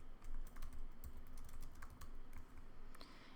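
Quiet, steady typing on a computer keyboard, a continuous run of soft, close key clicks at an even pace with no voices.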